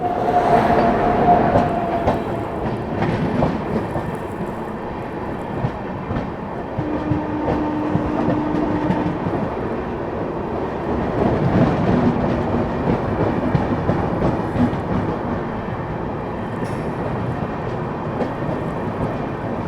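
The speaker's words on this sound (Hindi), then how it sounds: "यहाँ सामने से आती हुई न्यू दिल्ली से चलकर गया की ओर जाने वाली महाबोधि एक्सप्रेस" The New Delhi–Gaya Mahabodhi Express, hauled by a WAP-7 electric locomotive, approaches as a loud, continuous rumble of wheels and carriages on track, with rhythmic clickety-clack swelling midway and no talk.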